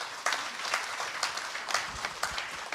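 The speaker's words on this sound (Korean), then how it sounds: "우리 모두 오늘 그 자리에 함께했다는 의미에서 모두 함께 박수치고 자리를 마무리하겠습니다." Audience at a civic public forum applauding together to close the session, with steady, fairly loud clapping and a few sharper claps standing out through the round.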